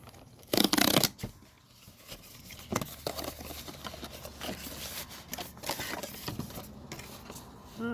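Hands opening a Magic: The Gathering Outlaws of Thunder Junction prerelease kit, with a loud burst of tearing wrapper, then steady rustling, shuffling and handling of cards and packaging, close by.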